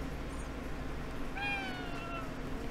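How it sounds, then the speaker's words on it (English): A cat-like yokai meows once in Ghostwire Tokyo, a single drawn-out, slightly falling mew heard faintly over a steady low ambient hum of the game's street. "Is that a cat?"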